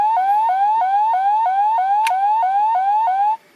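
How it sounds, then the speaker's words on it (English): A Doron Changer toy from Ninja Sentai Kakuranger gives off a loud electronic communication effect: a rapidly repeating rising chirp like a siren warble, with one sharp click partway through. "the LEDs do go off for these communication noises"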